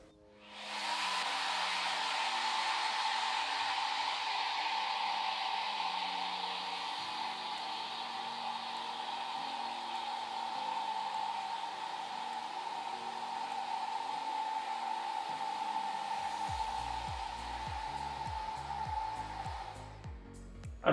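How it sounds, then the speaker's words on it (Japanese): A Creates-brand hair dryer blows steadily while drying hair in a salon, a loud continuous whooshing roar held for about twenty seconds before a low rumbling handling noise near the end. "はい、こんな感じでドライヤーの乾かし方をやってみました。"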